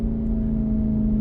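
A Chevrolet SS street car pulls from about 40 in third gear, its engine giving a steady low drone at modest revs, with a constant hum inside the cabin and no voices.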